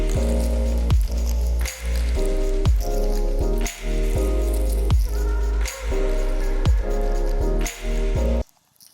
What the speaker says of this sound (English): So now what we've got is phased reversed Foley with some reverb on the end of it.